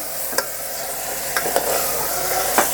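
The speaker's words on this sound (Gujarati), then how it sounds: "આ ગુવાર કુકરમાં નાખી દીધો હવે આપણે હલાવી નાખી" A few scraping knocks of a spoon stirring cluster beans in a metal pressure cooker, spaced irregularly over a low steady hiss, with no talking.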